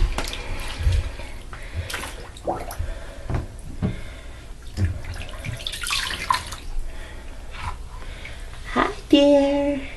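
Water sloshes and splashes in a bathtub as a child bathes, with irregular close splashes and drips while a voice talks over them.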